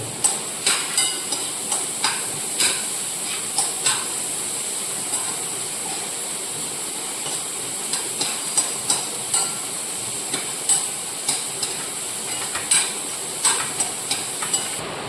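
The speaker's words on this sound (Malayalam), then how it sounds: "ശകലം ഉപ്പും കൂടി ഇട്ട് നമുക്കൊന്ന് വഴറ്റിയെടുക്കും" Ingredients for prawn theeyal sauté with salt in a pan, a steady sizzling hiss broken by repeated sharp clacks of a spoon stirring and scraping at an uneven rhythm.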